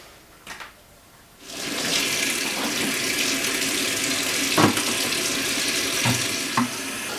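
Hot water gushes steadily from a tap into a Bissell carpet cleaner tank, a full rushing hiss lasting several seconds, with a few small clunks and knocks along the way.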